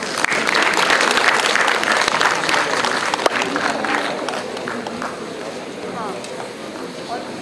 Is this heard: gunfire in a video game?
no